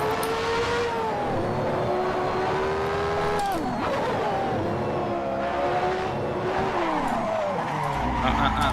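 Historic 1991 Formula 1 race car in the Assetto Corsa racing game at Monaco, engine wailing and revving steadily while the car spins off with tires skidding and squealing, loud and continuous from start to finish.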